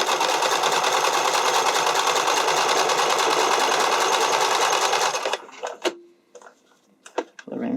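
Close, steady whir of a sewing machine stitching the edge of an underwire bodysuit runs for about five seconds and then stops, followed by a few small clicks and handling noises.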